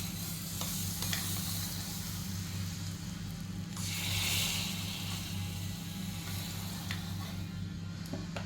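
Hot tempering sizzles steadily as it is poured into a pot of rasam, a broad fizzing hiss with a brief louder burst midway and a low steady hum beneath.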